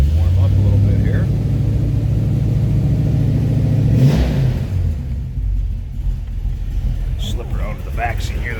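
A 1971 Dodge Challenger R/T with a 340 V8 idling low, a steady, loud, close rumble that dips briefly, with someone talking over it.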